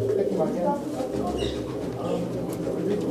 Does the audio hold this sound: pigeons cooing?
yes